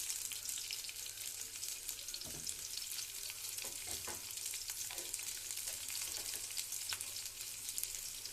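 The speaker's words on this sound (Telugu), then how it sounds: "ఇలా కోసుకొని ఉల్లిపాయ ముక్కలు వేగడానికి తిప్పుకోవాలి" Chopped onion pieces fry in a pan with a steady, close sizzle, broken by scraping clicks as they are stirred.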